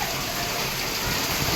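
Heavy monsoon rain falls outside, a dense, steady wash of drumming and hiss that continues evenly throughout.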